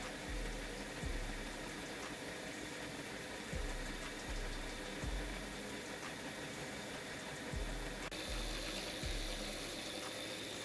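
A tiny motor driving a 3D printed 1:1446 reduction gearbox lifts a weight, giving a steady close mechanical whir with repeated low thumps as the small rig jumps and knocks around.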